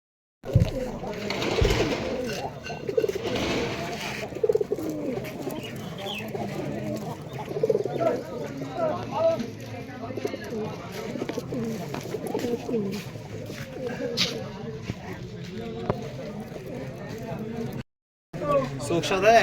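Pigeons coo at a busy pigeon market in Rajshahi, soft repeated calls mixed into crowd chatter and people talking nearby throughout.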